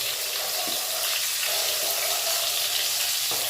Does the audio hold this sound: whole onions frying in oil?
yes